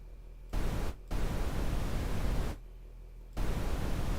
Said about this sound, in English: Yeah, just pink noise is fine.